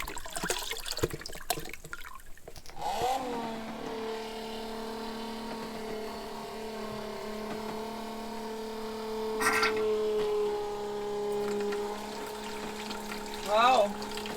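A pump pushes water up through a sailboat's plumbing to flush the system: a steady harmonic motor whine starts after a few seconds of clatter and holds evenly, with a brief surge near the end.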